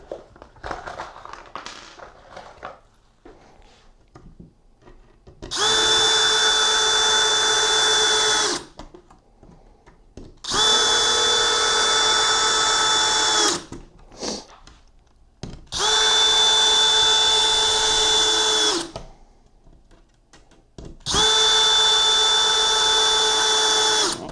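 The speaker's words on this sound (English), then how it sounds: "Pilot holes so you don't split the wood." Power drill boring pilot holes and driving screws into wood while building a beehive: four steady, loud whining bursts of a few seconds each, separated by pauses with light handling clatter.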